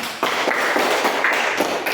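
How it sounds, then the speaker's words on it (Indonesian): A class applauds group 1 after their presentation, a brisk, continuous burst of many hands clapping close by, loud and even, with no voices over it. "Tepuk tangan untuk kelompok 1"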